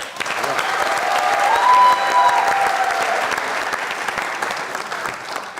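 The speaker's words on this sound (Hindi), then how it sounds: "तालियां।" Steady applause from an audience fills the whole stretch, dense and even, with a faint tone gliding briefly through the middle.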